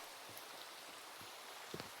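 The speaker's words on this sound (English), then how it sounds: "And it's still raining." Steady video-game rain falls in a cliffside cabin-building game as a soft, even hiss with faint scattered droplet taps, quiet and without voices.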